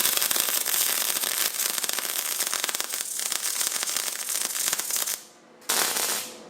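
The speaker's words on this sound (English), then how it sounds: "We are running into a little bit of issues with our welder." A MIG-style welder with a broken ceramic gas nozzle welds on a diesel Camaro project, giving a loud, continuous crackling sizzle that runs steadily for several seconds, briefly cuts out, then resumes.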